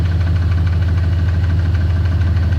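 Ford F-150 engine with a head gasket rebuild running steadily up close, a heavy low idle drone with a faint rapid ticking from a collapsed lifter riding over it, no talking.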